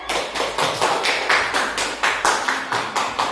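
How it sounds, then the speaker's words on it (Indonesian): A classroom of pupils clapping hands together in a steady rhythmic beat, about two claps per second, loud and close, with no talking over it. "Oke, tepuk tangan dulu boleh?"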